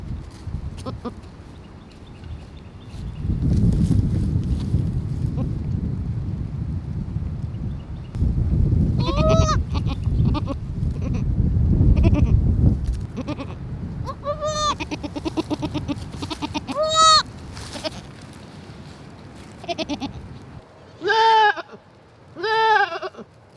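Goats bleat near a parked van on an island where a goat gave birth, a herd calling in several wavering bursts that grow louder and closer toward the end, over wind or handling rumble with brief voices earlier.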